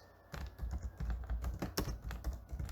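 Someone types on a computer keyboard while adding a new post, producing a steady run of close, quick key clicks with uneven rhythm and no voice.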